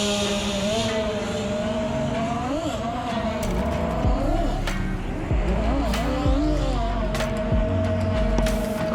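An FPV freestyle drone on new propellers whines and surges as it flies, its pitch rising and falling with throttle changes, fairly close and continuous.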